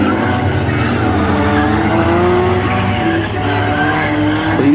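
Cars in a figure 8 demolition derby race, among them a Crown Victoria, roar past loud and near with continuous engine drone and long tire squeals from skidding, with no break in the noise.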